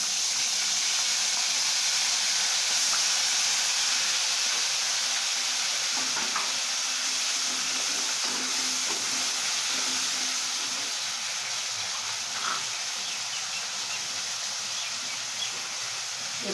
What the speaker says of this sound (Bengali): দিয়ে দিলাম পেঁয়াজ বাটাটা আচ্ছা জিরে ফাটতেও শুরু করেছে